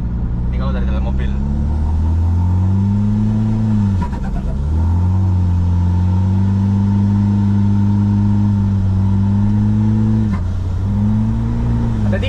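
Inside a Toyota Innova with the 2KD diesel engine, a loud cabin drone rises and falls as the engine revs up, holds and drops back several times, with a brief clunk between pulls.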